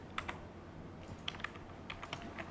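Keys clatter on a computer keyboard while a document is typed up in Microsoft Word, a quiet, uneven series of light clicks over a soft background hiss.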